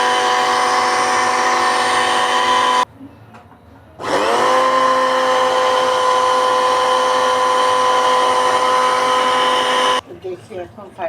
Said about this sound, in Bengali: তো আবার একটু ব্লেন্ড করে নিই।